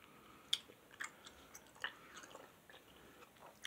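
Gum chewing heard close and quiet, soft wet smacks and small clicks at an irregular pace with no talking over them.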